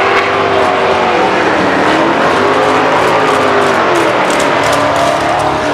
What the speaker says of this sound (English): they're running cars behind me and it's pretty loud